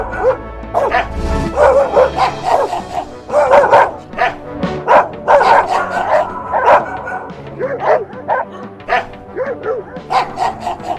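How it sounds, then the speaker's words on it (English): A dog sound effect gives repeated close, loud barks and yips, mixed with growls and whimpers, in an uneven rhythm. "The dog growled and barked at Hercules and snapped at him with all three heads."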